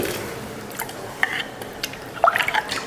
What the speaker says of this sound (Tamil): இப்போ அரிசியை சேர்த்துடலாம். 20 நிமிஷமாக ஊற வச்ச அரிசி.